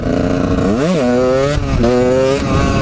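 A motorcycle engine idles loudly, dips briefly as if braking, then gives a short throttle blip that rises in pitch before settling back.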